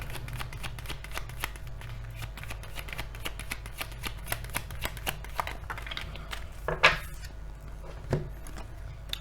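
A deck of tarot cards is shuffled steadily, with a dense run of quick papery riffles and flicks. A couple of sharper card slaps stand out near the end, and no one speaks.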